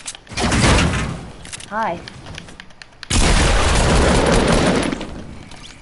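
Gunfire from a PS4 video game, with loud bursts of shots at the start and a dense, sustained barrage in the second half; a voice speaks briefly in the gap between them.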